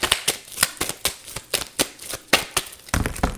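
A deck of tarot cards is shuffled by hand during a reading, producing a steady run of crisp riffling flicks and slaps, about a dozen in quick rhythm, close and fairly loud, with no talking.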